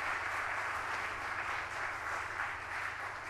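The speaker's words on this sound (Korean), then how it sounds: "우리 모두를 위해서 박수 한번 해주시죠" A church congregation applauds at a Christmas celebration service, steady dense clapping filling the room throughout without a break.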